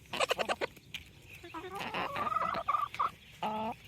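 Backyard chickens cluck and squawk near potato-growing containers, a busy, fairly faint run of short clucks and calls ending with a longer drawn-out note.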